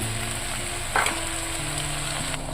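Brinjal and tomato fry in a pan for a brinjal and bottle gourd dal curry, giving a steady, close sizzle with one brief stirring scrape partway through, and no talking.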